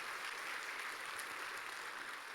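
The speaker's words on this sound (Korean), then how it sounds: "다시 한 번 더 뜨거운 박수 드리도록 하겠습니다" A church audience applauds at a testimony gathering. The clapping is a dense, steady, continuous patter of many hands heard from a moderate distance, with no break through the whole stretch.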